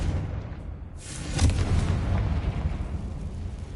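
Confringo fire spell blast in Hogwarts Legacy, a deep booming explosion that erupts suddenly and rolls into a long rumbling roar, loud and close, no talk.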